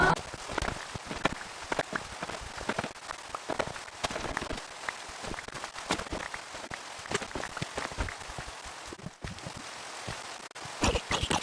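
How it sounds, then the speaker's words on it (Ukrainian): Steady rain pattering across the ground in a Minecraft world, a dense, even hiss of drops with sharper clicks, continuous for the whole stretch with no voices. "Чо дощ пішов, блін"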